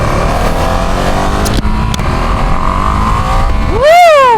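A 2025 Ducati Panigale V2 sport bike's engine drones loudly and steadily up close, then revs sharply with a rising, climbing whine as it rides off.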